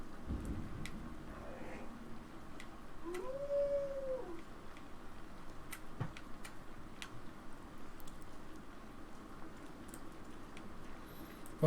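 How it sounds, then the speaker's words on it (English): A fiery wolf mount in Assassin's Creed Valhalla gives a single rising and falling howl at mid distance over quiet rain and faint rumbling ambience. "Ah, yes, my fiery wolf."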